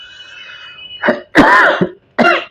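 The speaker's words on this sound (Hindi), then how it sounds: "खांसी आ रही, पता नहीं क्यों, क्या हुआ है।" A few harsh, throaty coughs in quick bursts, close and loud, separated by short pauses.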